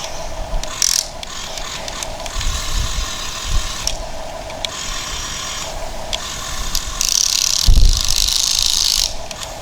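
A 1/12 scale Huina RC excavator with a metal bucket grinds and ratchets as its gears strip, a steady whirring motor broken by repeated clicking, crunching bursts, close and fairly loud with no talking.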